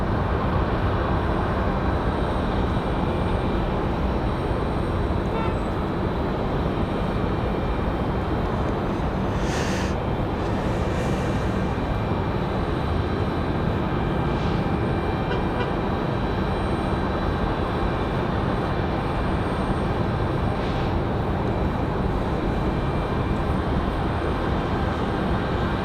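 An American Airlines A319 takes off from Raleigh-Durham airport as a broad, continuous jet roar held steady for the whole stretch, distant but loud.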